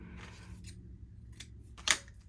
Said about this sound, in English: but we'll cut it down